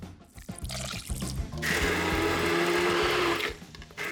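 A kitchen blender grinds onion, tomato and green chili for a mixed vegetable dish, its motor starting up after a few seconds and running as a loud, steady whir to near the end.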